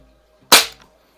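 A single sharp shot from a Crosman 3622 air rifle, a loud crack with a brief decaying tail, alone against near silence.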